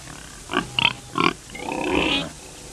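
A pig grunts several times in short, close bursts, then lets out a longer drawn-out squeal-like grunt.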